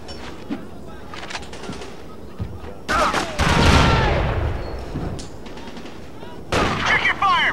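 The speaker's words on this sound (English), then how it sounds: "Check your fire! Friendly fire!" Bursts of gunfire in the Black Hawk Down PS2 video game, rapid machine-gun rattles and louder volleys in several clusters, with shouted voices in between.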